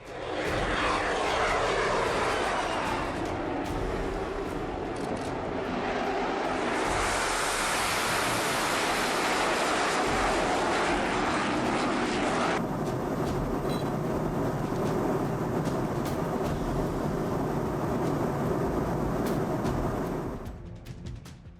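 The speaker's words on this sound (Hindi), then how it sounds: "कभी आसमान में उड़ते फाइटर जेट्स का शोर।" Fighter jets roar overhead in a loud, sustained engine rumble that swells and shifts over about twenty seconds before fading at the end.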